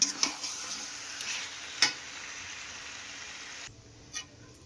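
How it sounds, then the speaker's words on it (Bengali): Potatoes for chicken curry fry in a pan, a soft steady sizzle with a few sharp clinks of a utensil against the pan before the sizzling drops away to near quiet. "চিকেনের আলুটা ভেজে নিচ্ছি।"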